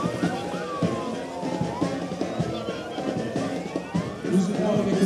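Ambulances of a Lyon medical centre lead a motorized May Day 2025 parade in Libreville, their sirens wailing and sweeping over crowd noise, with someone talking over the scene throughout.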